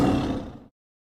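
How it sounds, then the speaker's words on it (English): A tiger roar, one short loud growling burst lasting under a second and then cut to silence. "T for tiger."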